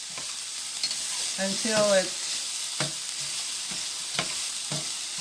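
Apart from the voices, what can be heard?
stirring garlic in a pan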